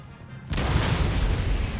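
Artillery cannon fire in a Total War battle with British forces: after half a second of quiet, a massive booming volley erupts and rolls on as a dense, sustained rumble.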